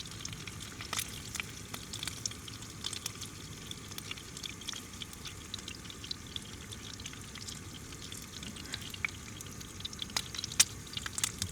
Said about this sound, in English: Like it a little bit runny, but not too runny, because I don't want my bed covered in egg.